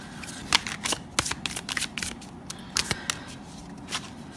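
A deck of reading cards is shuffled and cards are drawn, making quick papery riffles and flicks in uneven bursts close by, with sharp slaps between them and no voices.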